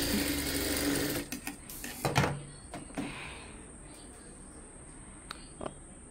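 Sewing machine running steadily for about a second, then in short bursts and taps while stitching a puff sleeve for Aari work, close and fairly faint, with no talk.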